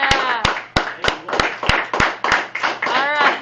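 A class gives a round of applause, with steady, evenly spaced claps close by, about three per second, and excited voices calling out over them.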